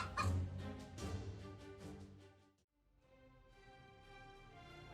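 A domestic hen defending her chicks makes agitated, rapid clucking and squawking calls, loud at first and fading briefly before continuing at a lower level.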